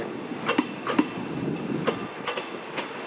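Empty CNR railway cars roll past on a Thai line, giving a steady close rumble broken by repeated sharp clickety-clack wheel beats over the rail joints.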